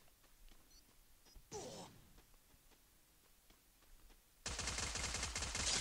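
Gunfire in the Free Fire video game: a quiet stretch of faint ticking shots, a short burst, then loud sustained automatic fire at the end, heard alone without talk.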